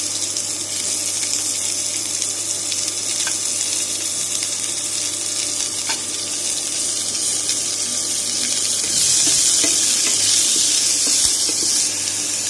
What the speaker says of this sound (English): We are going to stir fry the onions for about 1 minute so that its pungent smell goes away